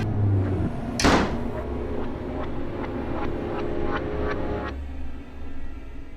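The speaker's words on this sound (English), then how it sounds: "And the door slams behind you." A door slams shut once, a loud sharp bang early on, then a long ringing tail over a steady low rumbling ambience.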